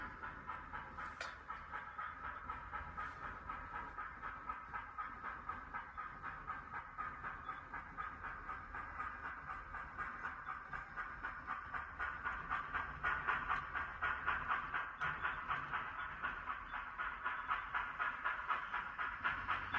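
An HOn3 narrow-gauge model railroad locomotive runs through a three-way turnout on a layout, giving a steady soft hiss and rapid rhythmic clicking. The sound is faint, even and close, and no one talks.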